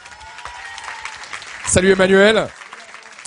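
Audience applause at a video game awards ceremony in Paris, a steady background patter of clapping under a man's greeting, joined briefly by a louder voiced exclamation near the end.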